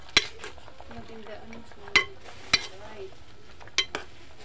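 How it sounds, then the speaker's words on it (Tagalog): A spoon stirs cooking food in a metal pot, giving several sharp clinks against the side at irregular intervals over a soft, steady background, close and fairly quiet, with faint speech in the background. "Natin haluin."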